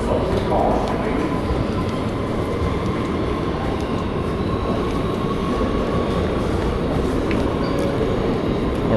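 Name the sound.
New York subway A train, Brooklyn-bound local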